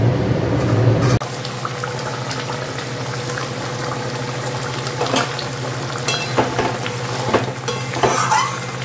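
Tomato curry in a pan with water just added, being stirred: a constant close bubbling sizzle with scattered scraping and clinking stir strokes, no talking.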